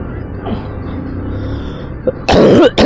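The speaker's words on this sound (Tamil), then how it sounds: "அம்மா இருமல்." A woman coughs a few times near the end, loud and close, following a stretch of steady low road and engine rumble from a delivery rider's ride.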